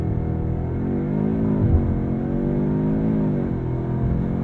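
A 2022 Audi S3 on launch control, heard from inside the cabin as the engine holds at high revs while building up before take-off, a loud steady drone with the pitch swelling and dipping.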